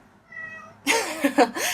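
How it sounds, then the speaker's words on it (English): A house cat meows several times in quick succession, close and fairly loud, after a brief quieter tonal murmur at the start. "So, my cat's going."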